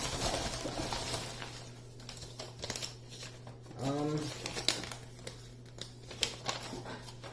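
A Hay7 speed cube box is unpacked with crinkling and rustling packaging, close and moderately loud, while a voice is heard briefly among the handling noises.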